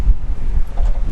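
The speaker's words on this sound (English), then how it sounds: "Oh, the wind is really kicking up." Strong outdoor wind buffets the microphone in loud, uneven low rumbling gusts beside a Subaru Sambar kei truck, with no talking.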